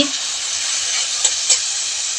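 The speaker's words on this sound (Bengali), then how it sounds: "এখন আমি টমেটোগুলো দিয়ে দিচ্ছি, ছোট ছোট করে কেটে নিয়েছিলাম টমেটোটাও দিয়ে দিচ্ছি" Chopped tomatoes added to a pan of fried onion and garlic sizzle with a steady, bright hiss, plus a couple of soft clicks of a spoon against the pan, close and continuous, with no talking.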